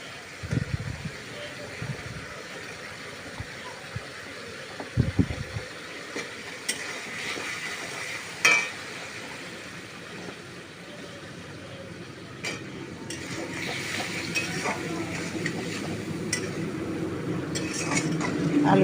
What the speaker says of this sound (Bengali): ভাজা আলু ছেড়ে দিলাম। এবার একটু কষিয়ে নিচ্ছি।